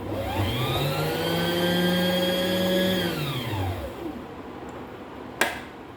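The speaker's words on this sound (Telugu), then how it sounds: "ఇలాగా దారం బాపిల్లోకి ఎక్కించుకోవడం ఇది సులువైన పద్ధతి" A sewing machine winds thread onto its bobbin with a steady whirring motor hum that holds, then winds down and stops, followed by a single faint click.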